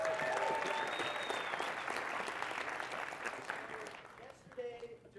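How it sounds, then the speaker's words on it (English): An audience applauds for Nathan, an 18-year-old presenting his business plan, with dense, steady clapping and some crowd noise that tapers off near the end. "Give him a round of applause"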